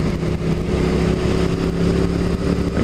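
A motorcycle engine held at moderately raised revs, a steady, loud mid-pitched drone with a slight wavering but no sharp climb, close to the listener.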